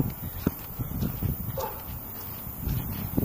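Dog walked by Wario in a cartoon game, giving soft short yips and whimpers amid low rustling and footstep-like clip-clop, fairly quiet and close.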